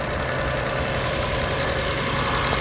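A 1997 Lexus E300 engine runs steadily, a loud close continuous drone with a rough, slightly knocking texture and no talk.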